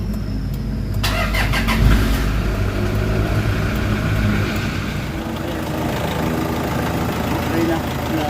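A Toyota Fortuner with a transmission fault (C1241 code, engaging gears but not moving) cranks and starts, then settles into a steady, loud idle nearby, with a person speaking over the engine.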